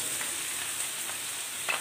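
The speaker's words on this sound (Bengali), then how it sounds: "এখন এর মধ্যে ভেজে নেওয়া চিকেনগুলো আমি দিয়ে দেব" Fried chicken pieces stir-fried with onions in a pan for chilli chicken give off a steady, fairly soft sizzle, with a couple of faint scrapes and a brief louder stir near the end.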